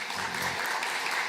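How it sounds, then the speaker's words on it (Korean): Welcoming applause rises from a church congregation during a Sunday worship service, a steady wash of clapping hands that fills the room evenly for a short burst. "자리에서 일어나시면 우리 환영의 박수하겠습니다"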